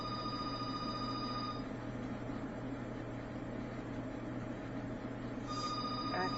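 In a kitchen during cooking, a telephone rings somewhere nearby, its tone sounding at the start and again near the end over a steady background hum.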